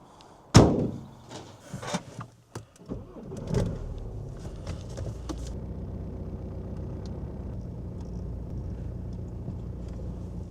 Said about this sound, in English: close the bonnet